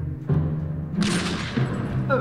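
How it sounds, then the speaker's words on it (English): Gunfire in the survival video game 60 Seconds, a few sharp booming bursts in quick succession, loud and close, with game sound and some voice around them. "Oh, that's great gunshots."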